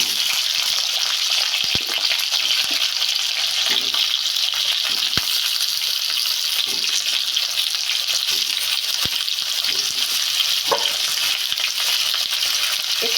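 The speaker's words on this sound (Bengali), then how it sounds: "আর একটু নুন দিয়ে ভালো করে আলুটাকে ভেজে নেব।" Potatoes fry steadily in hot oil with half a bay leaf, panch phoron and slit green chillies, a continuous close sizzle with occasional stirring clicks of a spoon against the pan.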